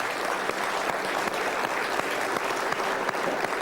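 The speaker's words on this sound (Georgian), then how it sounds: "რა ტაში" A studio audience at a Georgian talk show applauds steadily for several seconds, a dense, even wash of many hands clapping close by, with no break and no speech over it.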